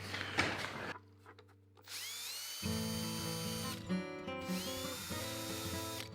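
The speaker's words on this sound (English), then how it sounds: "I think I'll probably just get a drill" A power drill spins up and runs loudly and steadily, with a rising whine as it bites in, after a brief rattle at the start.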